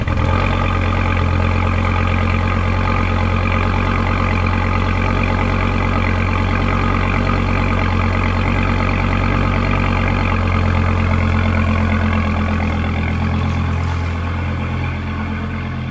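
A truck towing a trailer carrying a Dodge Viper drives along with a steady, loud low engine drone and road rumble, continuous and unbroken throughout.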